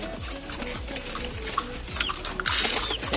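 Pet pigeons give low, repeated throaty coos close by, with soft rustling and the faint flutter of wings in the background and no talking.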